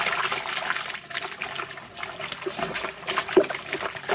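A wool bag is agitated in water during felting, giving continuous sloshing and trickling with small splashes throughout, close up. No one speaks.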